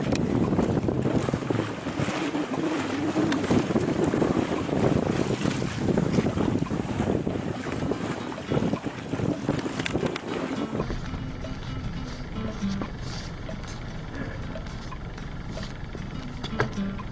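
Out on the water off a yacht club, a sailboat runs under spinnaker as strong wind buffets the microphone in a steady roar, with rushing water and waves audible against the hull.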